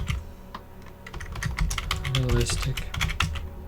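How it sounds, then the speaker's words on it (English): Fast, clattering keystrokes on a computer keyboard come in a quick, uneven burst, close and fairly quiet, while a voice speaks over them. "Just type it right in there."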